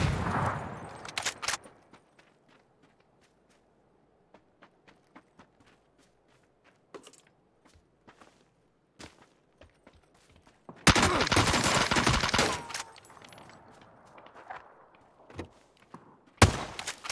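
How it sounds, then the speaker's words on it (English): A shotgun going off in a tactical shooter game, with a couple of sharp loud blasts near the start, a long roaring burst midway, and a final crack, separated by quiet stretches of faint footsteps and thuds. "That was my shotgun."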